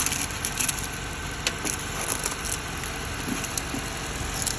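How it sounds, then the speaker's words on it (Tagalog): A car's engine runs steadily after a jump start, a continuous rough rumble with faint rattling, fairly quiet and without talk. "tumutunog na po yung kanyang makina"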